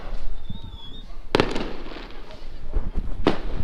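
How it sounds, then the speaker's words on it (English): Fireworks bang from a rooftop on a Hawaii night: two sharp, crackling bursts a couple of seconds apart, fairly close, with softer distant pops and a hum of background noise between them. "We're gonna watch some fireworks from my rooftop."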